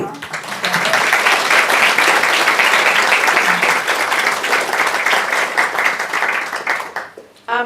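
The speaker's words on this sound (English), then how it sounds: "Let's give them a clap." Audience applause for a panel speaker at a discussion on democracy and autocracy: dense, sustained clapping from a large crowd that holds steady for about seven seconds, then thins and fades at the end.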